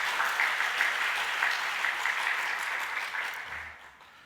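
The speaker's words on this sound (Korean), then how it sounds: "우리 수고했다고 하면 격려의 박수 한번 드릴까요?" A congregation at a Sunday church service gives a round of encouraging applause, a full, steady clapping that fades out toward the end.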